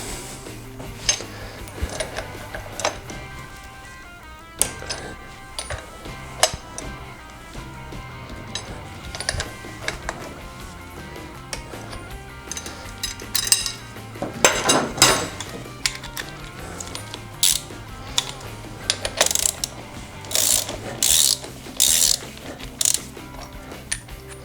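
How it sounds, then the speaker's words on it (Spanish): Ratcheting breaker bar loosening a part on a 1991-2003 Harley-Davidson Sportster charging system, giving repeated metallic clicks and clanks in an irregular rhythm, close up and moderately loud with no talking. "Vamos a coger la palanca de Arquímedes y vamos a aflojar"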